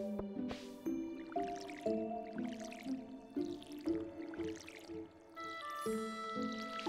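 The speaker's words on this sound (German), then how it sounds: "Da jetzt gerade gegossen, ich bin mir nicht sicher, gieße ich lieber zweimal." Crops being watered in the video game Stardew Valley: a series of soft splashing water bursts about once a second over steady, melodic background game music.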